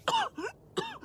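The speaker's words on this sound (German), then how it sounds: "Er hustete künstlich" A deliberate, fake cough in a German radio drama, two short rough bursts with a pause between, close and fairly quiet, with no talk over it.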